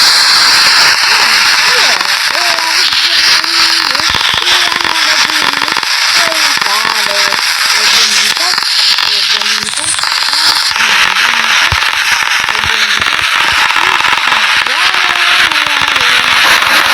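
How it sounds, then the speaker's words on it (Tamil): Small firecrackers pop and crackle in sharp bursts over a constant loud background hum, with people talking throughout. "இப்போ இந்த பட்டாசு குட்டியாக இருந்தாலும் குட்டியான பட்டாசு ஆகும்."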